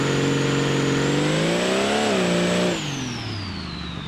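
A car engine in the BeamNG driving simulator holds a loud, steady rev near 2,800 RPM for drag racing with turbo surging, climbing slightly then dropping off abruptly to a lower idle-like drone.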